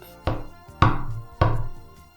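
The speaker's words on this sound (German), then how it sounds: "ward heftig an das Tor des königlichen Palastes geklopft" Three heavy knocks on the gate of a royal palace, spaced about half a second apart, each a sharp thud with a short ringing decay, close and loud with no voices.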